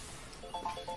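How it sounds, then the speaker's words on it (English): A phone ringtone in a lecture room, a short faint tonal chirping that starts partway through and sits under quiet room noise. "Is someone ringing?"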